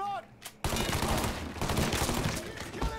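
Gunfire in the Mafia 3 video game breaks out after a short pause as a loud, dense burst of rapid shots, continuing in ragged volleys with some game noise underneath.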